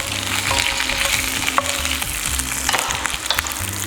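Green chilli and ginger pieces sizzle in hot oil as a tempering, a loud close crackling fry with stirring scrapes and clinks, steady for a few seconds with no voices.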